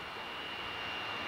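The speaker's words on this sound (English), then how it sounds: "Again, we've got another big jet coming in." Big jet aircraft flying low overhead on approach near Niagara Falls, a steady faint engine roar with a high whine, no voices.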